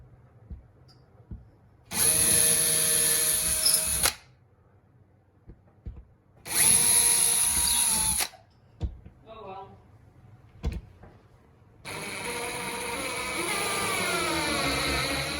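A power drill bores starter holes for drywall screws while a flat-panel LED ceiling light is being installed, running in three loud, steady bursts of about two seconds each, with quieter handling clicks between them.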